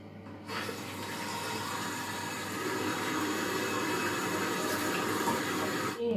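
Tap water running steadily into a bathroom sink while a face is washed: a continuous, close rush of water that starts abruptly, holds an even level for about six seconds and stops, with no speech.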